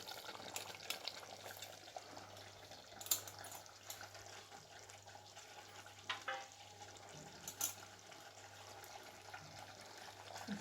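Sprouted green gram going into a pan of cooked potatoes frying in oil gives a faint, continuous sizzle with scattered stirring clinks and small scrapes, quiet and close.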